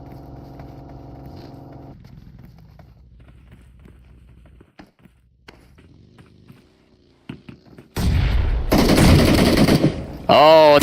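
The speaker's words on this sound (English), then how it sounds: "Oh, that was a good grenade." Battle royale video game fight, quiet at first with scattered faint shots, then a sudden burst of loud rapid gunfire and blasts in the closing seconds, dense and close.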